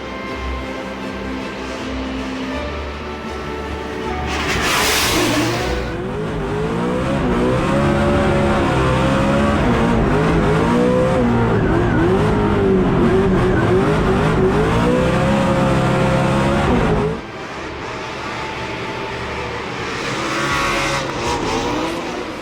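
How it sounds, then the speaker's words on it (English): A Ford Mustang RTR Spec 5DM drift car pulls onto a Drift Masters Poland circuit to warm its tyres, engine revving loud and close with rising and falling pitch over a sustained stretch, plus brief tyre-squeal bursts. "James Deane pulls onto the circuit to warm up the tyres in the back of that Ford Mustang RTR Spec 5DM"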